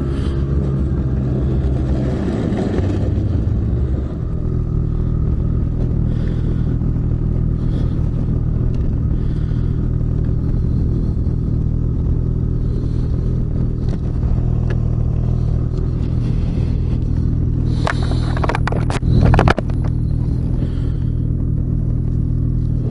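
A snowmobile engine drones steadily throughout a ride on an Ontario trail, loud and close with rough, bumpy variations and a short louder burst near the end.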